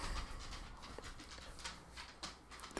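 A dog panting quickly and softly close by, breathy rhythmic huffs over faint background noise, no speech.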